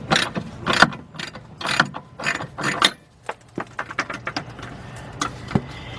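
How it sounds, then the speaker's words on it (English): A half-inch drive ratchet with an 18 millimeter socket tightening a bolt on a BMW 745i during starter replacement, loud close bursts of rapid clicking, then lighter scattered clicks and taps. "an 18 millimeter half-inch drive socket with my half-inch drive ratchet"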